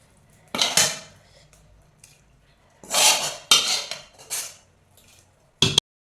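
Metal spoon scrapes and clinks against a pot in a few short bursts as roasted spice mix is added, with quiet gaps between; no talking.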